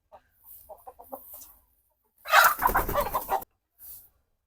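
Chickens from a flock of about twenty cluck in short soft calls, followed by a louder harsher squawking burst and a final brief call, with no talk.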